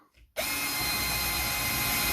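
After a brief quiet moment, a power drill starts close by and bores steadily through a wooden door to cut the pocket for a Chubb-style mortice lock, giving a loud, continuous whirring grind.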